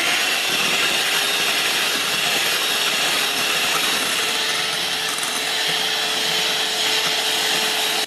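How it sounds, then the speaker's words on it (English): A mixture with icing sugar is whisked in a steady, continuous whirring buzz that stays loud and unbroken throughout. "And now yet more whisking."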